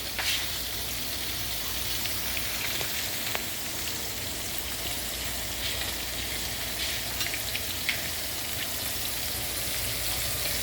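Fish and shrimp frying in a pan of hot oil, a steady dense sizzle and crackle that stays loud and even throughout, with occasional sharper pops and no talking.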